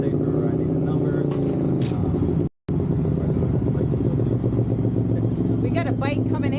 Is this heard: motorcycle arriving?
yes